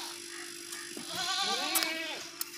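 A goat of the ablaq (piebald) breed bleats in a wavering, drawn-out cry at a livestock sale, loud and close, with no talk over it.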